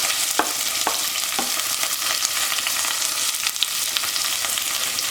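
Ginger, onion, green chili and vegetables sautéing in a pan over a low flame for broken wheat upma, giving a steady soft sizzle with a few light stirring clicks throughout, no voices.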